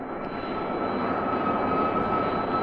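A steady, loud jet engine roar with a high whine, holding strong throughout without any talking.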